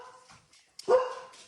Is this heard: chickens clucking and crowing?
no